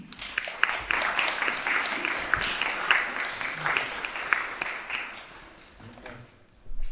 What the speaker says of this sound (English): please join me in a warm welcome applause as I turn the mic over to Bryce.